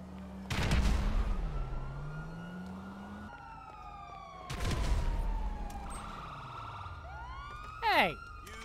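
Gunfire and explosions in GTA Online, loud bursts near the start and middle under a wailing police siren, with a short sharp burst near the end.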